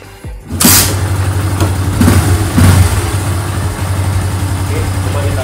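Motorcycle engine cranks and catches, then settles into a steady, close, rumbling idle with a couple of light revs early on.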